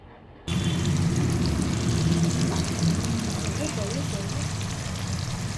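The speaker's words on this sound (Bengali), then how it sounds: "এটা হচ্ছে কলা ভাজা" Banana slices fry in hot oil with a steady, close hiss and soft bubbling that starts abruptly and keeps going, with faint background noise and no clear talking.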